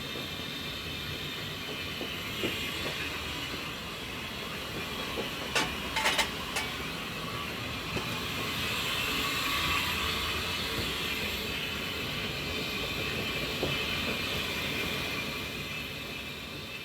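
The Flying Scotsman steam locomotive runs on the line, heard from the footplate as a steady loud rumble and hiss with rhythmic clanking, a few sharp metallic knocks rising briefly over the drone.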